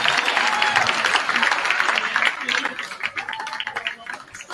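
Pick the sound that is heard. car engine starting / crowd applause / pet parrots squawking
crowd applause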